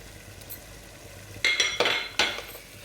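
Almonds, cashews, walnuts and pistachios tumble into a pan of carrot halwa, giving a few close, bright clattering bursts and scrapes over a quiet kitchen background.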